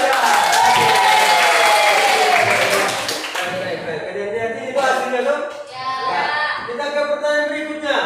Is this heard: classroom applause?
yes